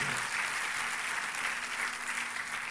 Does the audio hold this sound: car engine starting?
no